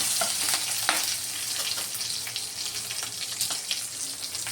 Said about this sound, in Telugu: ఫ్రై చేసుకొని వేగుతున్నప్పుడే కొంచెం జీలకర్ర వేసుకుందాం